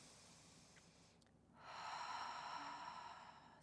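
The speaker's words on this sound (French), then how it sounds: "Inspire par le nez." A Pilates breath drawn slowly in through the nose, a soft, faint airy intake that swells and holds for a couple of seconds, close and quiet with no speech.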